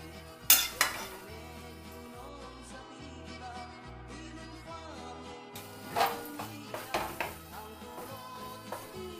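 Penne pasta and a spicy arrabbiata sauce are stirred together in a pan, giving intermittent clinks and scrapes of a utensil against metal over quiet background music, with no talking.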